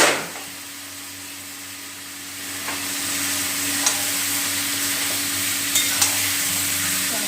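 Boiled potatoes sauté in hot oil in a pan, producing a loud, continuous sizzle as a spoon stirs them, with a few light scraping clicks against the pan surface.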